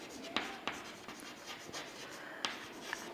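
A pen moves across paper in short strokes with a few sharper taps as figures are written, faint and close, with no talking.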